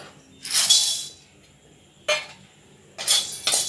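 Chana dal is dry-roasted in a kadai with no oil for rasam powder, the lentils and spoon rattling and scraping against the metal in three or four brisk bursts separated by quiet pauses.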